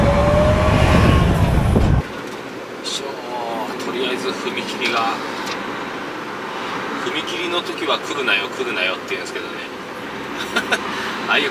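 A train rumbles past close by at a railway crossing with rhythmic clattering wheels, after a brief loud burst at the start, while someone talks over it.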